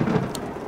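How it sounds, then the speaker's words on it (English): Rain pattering on the fiberglass roof of a camper van, with a low rumble of thunder, loud and close for a brief moment, no voices. "fiberglass roofs, like our van is fiberglass, when it rains, so loud"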